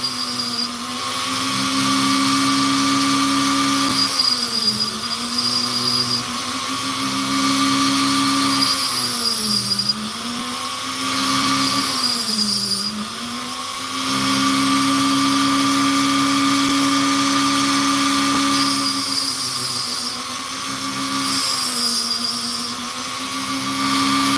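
Opal being cut and ground on a lapidary machine: a loud, continuous motor whine with pitch dipping and recovering repeatedly as the stone is pressed against the wheel, close up.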